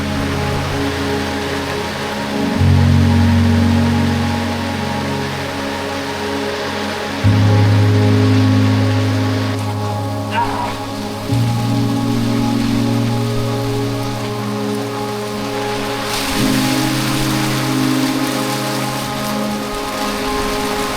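Heavy rain pours steadily at night over a campsite in Tabaco City, a dense continuous hiss with a low drumming rumble that swells in waves, no voices.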